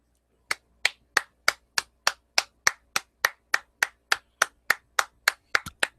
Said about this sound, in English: I'm just clapping.